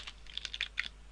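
Quick light keystrokes on a computer keyboard, a short burst of several taps in irregular rhythm, close and fairly quiet with no talking.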